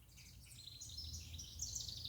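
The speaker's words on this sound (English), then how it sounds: "Can you hear the bird song?" Birds sing in a backyard garden planted for pollinators, faint high chirps and warbling trills running steadily throughout over a low background hum.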